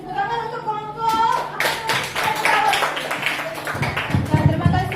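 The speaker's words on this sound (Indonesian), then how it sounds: "Tepuk tangan untuk kelompok." A classroom of students applauding a group, with scattered, uneven clapping that swells and continues under overlapping chatter and voices.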